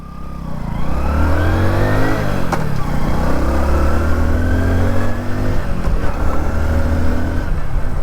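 A 2025 Hero Splendor Plus Xtec motorcycle engine pulls away and accelerates in first gear, its pitch rising steadily with a brief gear-related dip, loud and close with no talking.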